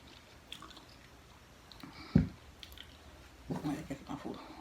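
Quiet close-up chewing on a crunchy Jamaican beef patty, with a few moist crunching bites and squishy mouth sounds, irregular and soft, with no talking.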